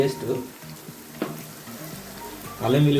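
Chopped onions and green chillies frying in a pan, a steady close sizzle with brief stirring clatters and a louder burst of crackling toward the end.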